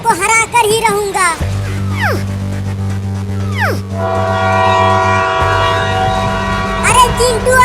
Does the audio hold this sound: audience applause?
no